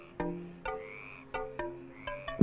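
Frog croaking in the video game Bubsy, a series of separate ribbed croaks spaced roughly every half second, moderately loud and close, with a sharper, louder blip near the end.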